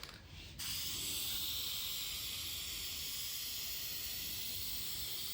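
A spray paint can hisses continuously while laying down a wet coat, a steady close broadband spray lasting about five seconds after a brief softer start.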